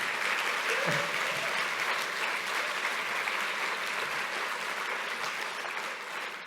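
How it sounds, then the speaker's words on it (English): Audience at a Belfast summit conference breaks into sustained applause, a dense wash of clapping that holds steady and tapers slightly toward the end, with a brief voice near the start. "So I'd really appreciate it if you give them a round of applause"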